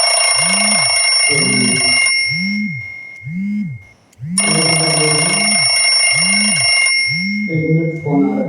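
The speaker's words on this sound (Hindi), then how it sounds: "एक मिनट फोन आ रहा है।" A phone rings with an incoming call, its repeating electronic ring tone sounding in regular bursts over several seconds, loud and close, without speech.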